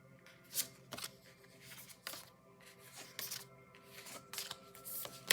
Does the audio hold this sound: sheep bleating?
no